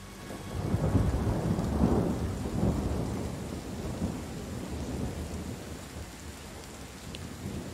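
Heavy rain pours down steadily while deep thunder rumbles and rolls loudly at the start, then fades into a continuous downpour.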